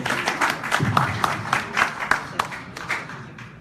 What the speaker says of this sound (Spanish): le vamos a dar un voto de aplausos al pastor